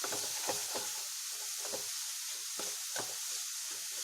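Sweet samosa filling being stirred in a hot pan on the stove, with a steady soft sizzle and a rhythmic series of spoon scrapes, about eight strokes, close and fairly quiet.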